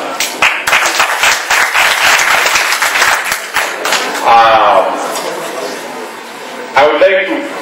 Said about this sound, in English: you should give them a clap